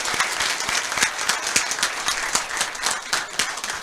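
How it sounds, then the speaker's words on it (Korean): Dense, lively applause from a conference audience after a neurosurgery lecture, many hands clapping together in a continuous bright patter at a steady level throughout. "다시 한번 큰 박수로"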